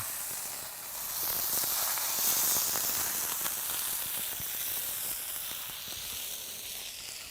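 Fish coated in a ground green peppercorn and kanthari chili masala frying in a pan: a steady, bright sizzle and hiss that swells slightly and holds throughout, close up with no talking.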